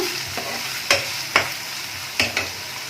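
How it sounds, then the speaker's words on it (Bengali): Capsicum being stir-fried in a pan for pepper garlic chicken gives a steady sizzle punctuated by four or five sharp scrapes and clatters of a spatula, close and fairly loud, with no talking. "ক্যাপসিকামটা দিয়ে দিচ্ছি। দিয়ে এখন একদম ভালো করে নাড়াচাড়া করতে হবে সব সময়"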